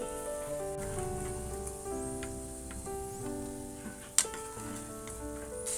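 Onions frying in oil with a little salt to make birista: a continuous soft crackling sizzle sits beneath steady background music, with one sharp clink near the end.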